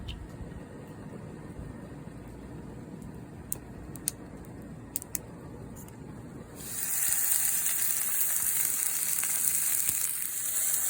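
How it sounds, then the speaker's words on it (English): Oil hissing in a frying pan at a camp cooking setup, with a low rumbling background that gives way at about six and a half seconds to a bright, loud, steady sizzle that holds to the end. "now we're going to put the oil in the pan."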